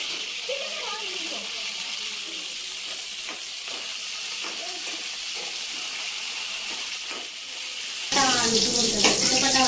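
Halved green chillies deep frying in hot oil make a continuous hissing sizzle that grows louder and harsher toward the end, with no voices over it.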